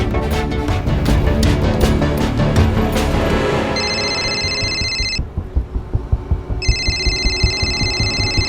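An electronic telephone ringtone chirps in repeated bursts, interrupted by a short gap, over a loud dramatic musical score with pulsing low beats.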